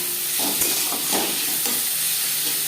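Chopped tomatoes go into onions frying in oil in a pan for a Mourola small-fish curry, with a steady close sizzle and a few soft stirring scrapes, no voices.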